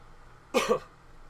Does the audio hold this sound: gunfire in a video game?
no